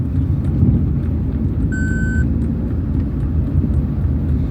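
A car idles and pulls at low revs with a steady low rumble, and a short electronic beep sounds near the middle, no talk.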